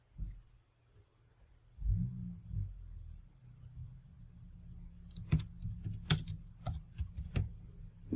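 Quick, light keystrokes on a keyboard used with an Onyx Boox Max Lumi e-ink tablet, a close burst of clicks after a few soft bumps and quiet room noise.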